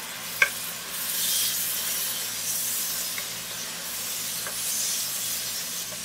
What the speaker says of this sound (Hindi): दोबारा से इसके अंदर मटन ब्रॉथ यानी कि गोश्त की यखनी डालेंगे इसके अंदर